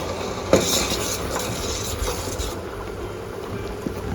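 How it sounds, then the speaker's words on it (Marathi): Flour is stirred into a pot of boiling water while it is added gradually, making dough for patolya at a Konkan Nagpanchami. Close scraping and stirring sounds run over soft bubbling, with a sharper clink near the start. "पीठ घालताना हळूहळू पीठ घालायचं आणि ढवळत राहायचं."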